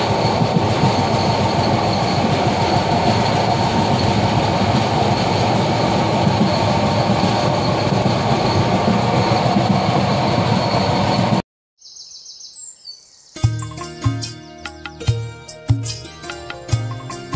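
A passenger train on the Dhaka to Cox's Bazar line rumbles steadily in a dense, continuous roar of wheels and carriage noise, then cuts briefly to near silence before a different segment of rhythmic clattering and knocks.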